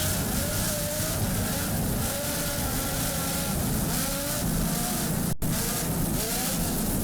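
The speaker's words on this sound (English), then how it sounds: "Just listen to those Lamborghini power plants." An offshore racing powerboat driven by two 920 hp Lamborghini engines roars past at the Miami Offshore Grand Prix, a loud, continuous high-powered engine drone with surging pitch, alone without talk.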